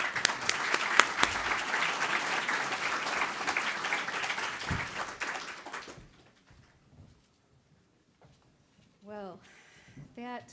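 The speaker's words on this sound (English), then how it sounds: "A round of applause for our panelists," An audience applauds panelists at a conference session on building policy, clapping steadily for about six seconds before fading to near silence, followed by a short spoken phrase.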